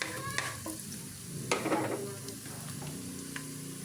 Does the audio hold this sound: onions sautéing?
yes